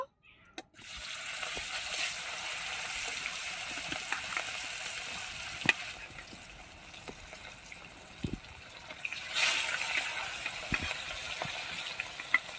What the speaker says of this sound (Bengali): তেলটা গরম হলে মাছটা দিয়ে দেবো